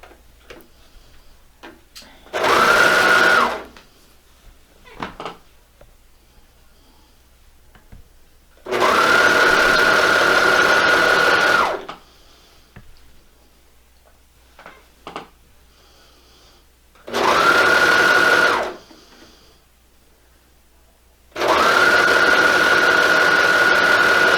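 A sewing machine stitches raglan sleeve shirt pieces assembled flat, running in four steady whirring bursts of a few seconds each with quiet handling pauses between them.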